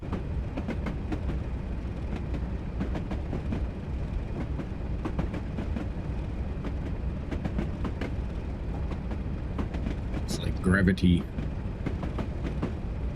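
Train braking on the West Highland Line in Train Simulator, a steady low rumble of wheels and rolling stock with faint rail clicks, rising briefly with a hissing, squealing burst near the end, while someone talks over it.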